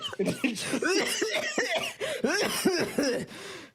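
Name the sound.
person coughing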